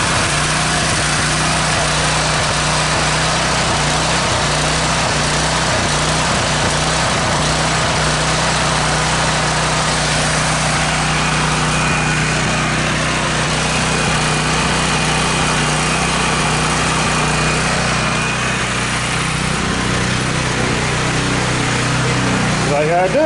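A small engine on an outdoor laundry machine runs steadily and loudly the whole time, a constant droning idle with no starts or stops.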